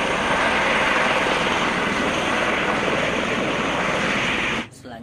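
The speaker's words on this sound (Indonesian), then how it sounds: "Ini mainan helikopter polisi pantai. Kita terbangkan yuk teman-teman." A toy coast police helicopter flies with a loud, steady whirring buzz that cuts off abruptly near the end.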